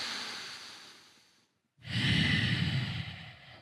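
Slow deep breathing during a yoga-style warm-up before deadlifts: a long close exhale fading out, a brief pause, then a strong, full inhale rushing in, breathy and alone.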